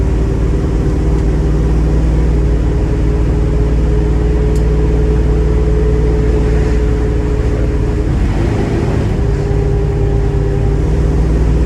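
An aging car that sat unused for ten years drones loudly at steady engine speed throughout, then the RPM dips and the note drops as the transmission shifts into a higher gear, with no talking.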